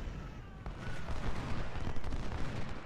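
Musket volley fire in Ultimate General: Civil War at the Battle of Bull Run, a crackling rolling burst of many shots swelling into a loud sustained rumble.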